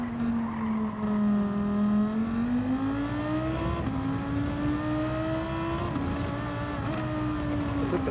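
Engine of a Lamborghini race car on worn tyres in Gran Turismo 7 lobby racing: a steady, loud, close engine drone whose pitch climbs and dips with gear changes and throttle, with no talk.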